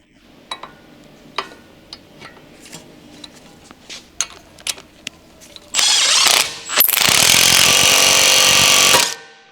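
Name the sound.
power tool removing control arm bushing mounting bolts, Honda CR-V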